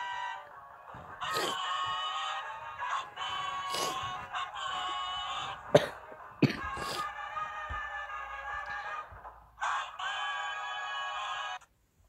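A dog lets out a series of high, warbling, cackling yelps that sound like a chicken clucking, rising and breaking off several times with short pauses.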